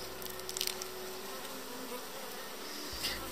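Honey bees swarm around an open hive in the steppe during a beekeeper's inspection, a dense, continuous close buzz filling the air with occasional louder passes near the listener, and no talking.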